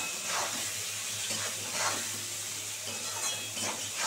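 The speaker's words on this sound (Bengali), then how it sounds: "একটা গোটা কুচানো পেঁয়াজ দিয়ে দিচ্ছি বন্ধুরা।" A whole chopped onion fries in hot oil, giving a soft, steady sizzle broken by a few short, scraping bursts of stirring at fairly regular intervals.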